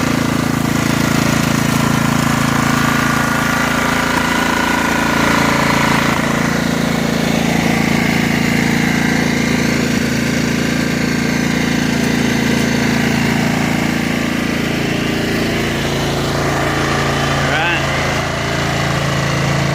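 A Snapper rear-engine riding lawn mower, unused for eight years, idles steadily and close by with a continuous low rumble and buzz, running unchanged throughout with no one talking.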